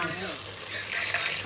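Food frying in oil in a home kitchen pan, a steady close sizzle with a brighter crackling burst toward the end and a low hum underneath, no talk.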